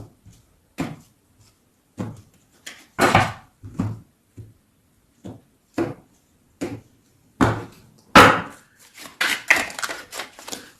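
A Witch Tarot card deck being cut and shuffled, with a series of separate soft slaps and riffles, some in quick clusters, coming close in an otherwise quiet room.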